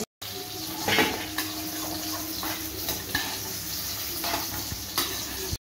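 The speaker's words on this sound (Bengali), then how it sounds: "একে একে এঁচোড়টা দিয়ে দেব।" Boiled young jackfruit pieces go into a hot pan and fry, giving a steady close sizzle broken by several stirring scrapes and clinks of a utensil against the pan.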